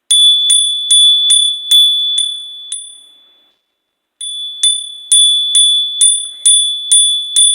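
A small bell is struck repeatedly in a quick even rhythm to clear energy, each bright metallic ding ringing on, then left to fade into silence before the rapid striking resumes, close and alone.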